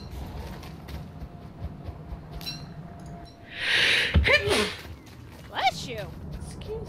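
A single sharp sneeze bursts out in a camp scene of a rainy survival game, loud and close, followed by brief muffled vocal sounds over steady rain-like background hiss.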